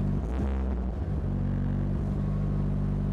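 Mitsubishi Lancer Evolution 8 engine revving: a loud, steady low rumble with throttle blips rising and falling, heard close and alone.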